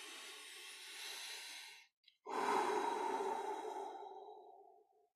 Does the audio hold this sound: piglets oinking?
no